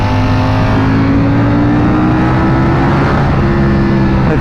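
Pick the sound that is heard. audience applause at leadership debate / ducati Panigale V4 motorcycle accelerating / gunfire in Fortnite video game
ducati Panigale V4 motorcycle accelerating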